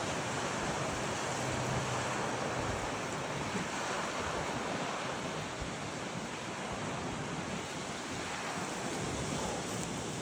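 Strong wind buffets the microphone atop South Furby Cliff, a steady, loud, broadband roar with ocean surf churning beneath it for the whole stretch, and no one speaking.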